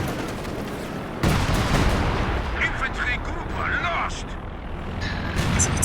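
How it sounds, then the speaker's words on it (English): Artillery barrage in a real-time strategy video game, heavy booming shell impacts and rumbling blasts over continuous battle noise, with a commentator speaking throughout. "Nice use here of coordinated barrage."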